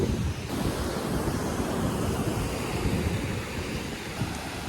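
Ocean waves break and wash continuously onto Tannirbavi beach in Mangaluru, a steady loud roar of surf with wind rumbling across the microphone and no voices.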